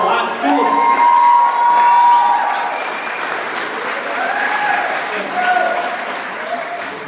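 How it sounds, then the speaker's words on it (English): An audience at a tribal college poetry slam breaks into loud applause mixed with cheers, whoops and shouts. The crowd noise rolls on for several seconds and rises and falls as it goes. "let's give another round of applause to our last two"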